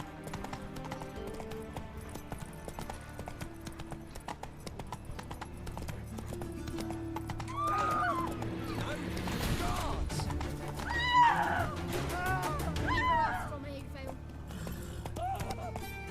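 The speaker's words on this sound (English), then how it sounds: "Giddy up. That's it, Roach" A horse's hooves clip-clop steadily in a video game, building into faster galloping under game music, with a voice speaking over it.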